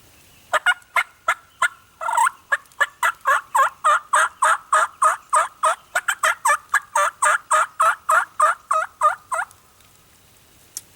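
A long, rapid series of loud turkey calls, about thirty sharp evenly spaced notes, close by and alone, then silence.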